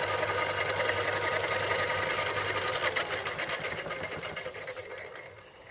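Mini lathe turning a metal part for a modified Gingery dividing head, a steady loud motor whine with a high cutting hiss that thins toward the end, with no talking.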